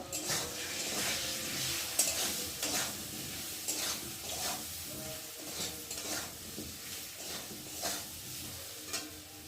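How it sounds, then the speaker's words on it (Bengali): Potatoes fry in a pan with ground turmeric and cumin for a vegetarian soybean curry, giving a soft continuous sizzle. Regular scraping strokes of a spoon stir through it, with no talking. "দিয়ে মশলাটা একটু ভালো করে আলুর সাথে কষিয়ে নেব"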